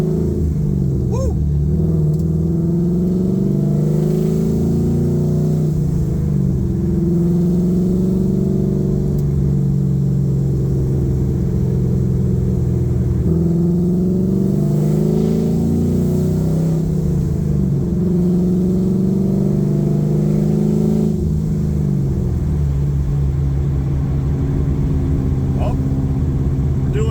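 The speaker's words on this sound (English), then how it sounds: "Man, does it feel good to be driving this car finally." A 1969 Chevrolet Camaro pro-touring build with an LS3 engine driving on new wheels and tires, a steady deep engine drone rising and falling through gear changes, heard from inside the cabin with some talking over it.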